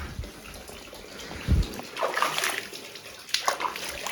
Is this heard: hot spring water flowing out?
yes